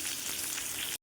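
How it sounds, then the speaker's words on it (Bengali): A brief, steady sizzle of chopped tomato and onion frying in a pan with cumin seeds in a home kitchen, close and even, cutting off abruptly. "জিরেটা ভাজা হয়ে গেছে, এবার এর মধ্যে টমেটো কুচি আর পেঁয়াজ কুচি দিয়ে দেব।"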